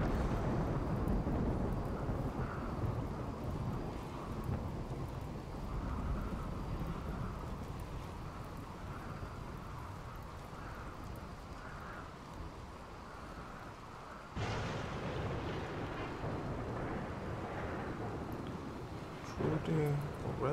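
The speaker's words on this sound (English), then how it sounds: "Once the rain stops, I will have to look at the map to see that all the fires are extinguished" Steady rain with low rumbling thunder in a RimWorld storm, a continuous wash of noise that shifts abruptly partway through, with a voice talking over it.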